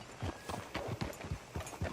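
Horse hooves clip-clop in a steady, even walking rhythm in the video game Red Dead Redemption 2, close and moderately loud with a faint ambient backdrop.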